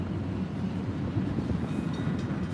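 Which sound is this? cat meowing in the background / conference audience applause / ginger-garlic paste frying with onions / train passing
train passing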